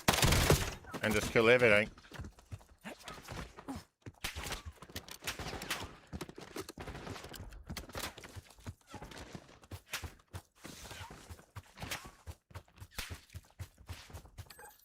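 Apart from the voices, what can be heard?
mortar fire from the video game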